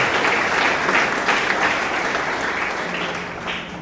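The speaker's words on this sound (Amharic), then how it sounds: "ለእግዚአብሔር ክብር አጨብጭቡ" A church congregation applauding during a teaching and prayer gathering, a full wash of many hands clapping that holds steady and slowly fades toward the end, loud and without talk.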